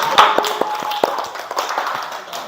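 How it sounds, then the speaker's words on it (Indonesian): Applause from a small group of trainees in a classroom workshop, a brief scattering of claps and taps, fairly close and unsynchronised, fading out within a couple of seconds. "Beri aplaus sekali lagi untuk kelompok 4."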